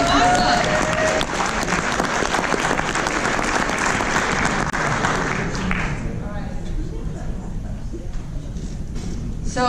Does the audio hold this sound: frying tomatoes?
no